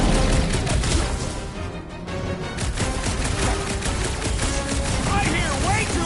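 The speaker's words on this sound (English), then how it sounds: "I hear way too much shooting!" Heavy, sustained gunfire in a video game battle, overlapping shots and rapid bursts crackling without pause amid explosions and a busy, chaotic mix.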